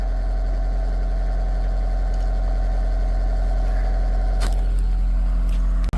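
A Bobcat ZHS 430 excavator engine idling steadily with a deep, even hum and constant vibration, loud and close, with a brief mechanical clunk near the end.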